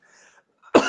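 A single sharp cough, close and loud, comes after a moment of faint quiet background.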